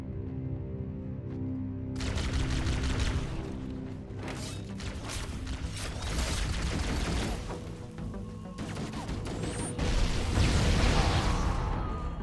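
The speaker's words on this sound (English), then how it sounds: "Okay, thanks for that explosion." Explosions and gunfire in Halo: Combat Evolved, in the level The Maw: after a quiet start, bursts of crashing blasts and rattling fire erupt in several waves, loud and dense, with no speech.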